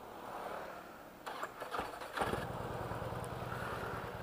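A motorcycle that has stalled cranks over in a short burst, then catches and settles into a steady, throbbing idle, loud and close with no talk.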